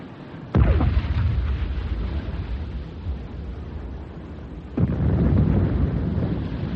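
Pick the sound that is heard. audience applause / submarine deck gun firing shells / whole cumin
submarine deck gun firing shells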